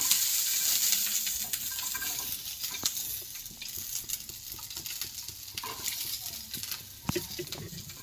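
Green chillies frying in hot oil in a pan for a gongura (sorrel leaf) chutney, a steady close sizzle with occasional stirring scrapes and pops throughout.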